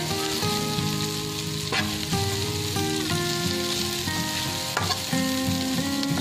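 Onions sizzling and frying in a pan, a dense, continuous crackle that stays loud throughout and carries faint stirring clinks, with no one speaking.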